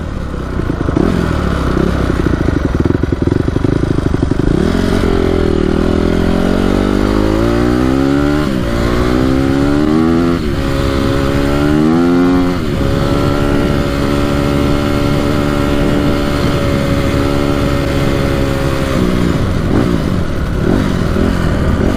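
A Honda CRF250R dirt bike engine running rough and struggling to idle, its pitch sagging and surging unevenly with loud mechanical clatter, close by and with no talking.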